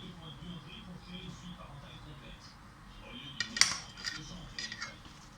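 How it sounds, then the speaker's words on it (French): A warmed knife cuts a slice of lemon mint cheesecake, making soft scraping and a cluster of light metallic clinks against a plate near the end, quiet and close, with faint background murmur. "Je fais chauffer un petit peu le couteau pour couper une part."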